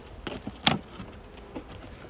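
Honey bees at a hive during a winter inspection buzz in short, faint bursts, a few brief passes close by with one louder buzz standing out against quiet background.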